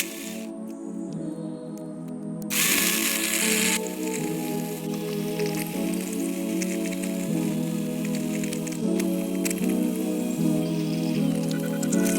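A Ryobi One+ OCS1830 cordless chainsaw cuts into a tree stump, a close, loud, continuous buzzing motor whose pitch shifts up and down as the chain bites and eases off, with no talking.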